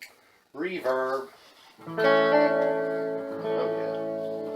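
Sustained notes from a 1960s Univox U65Rn electric guitar ring out with a lingering reverb tail, a short phrase followed by a long held chord that slowly decays.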